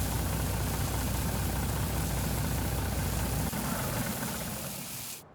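A truck engine idles in Farming Simulator 19 with a loud, steady, rumbling drone, then cuts out as the truck is shut off near the end.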